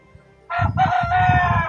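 A loud rooster crows close by, a long harmonic cock-a-doodle-doo starting after a brief quiet moment and holding strong to the end.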